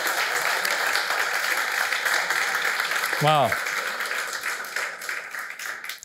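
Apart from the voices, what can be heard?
audience applauding the musicians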